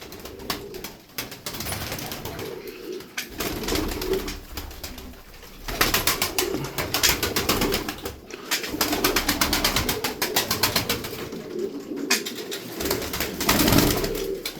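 Several loft pigeons coo continuously and close by, their soft, throaty calls overlapping in a steady, fairly loud chorus with no voices.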